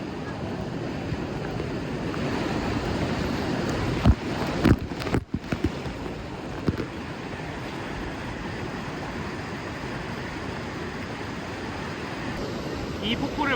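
A steady, dense rush of falling water roars close by at a waterfall near Mexico City, with a few brief knocks and voices breaking through mid-way.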